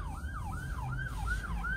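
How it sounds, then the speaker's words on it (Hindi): An ambulance siren in Canada wails in a steady rising-and-falling cycle, heard from a moderate distance with no voices over it. "एम्बुलेंस आ गई, तो दिख नहीं रही, आवाज आ रही है ना।"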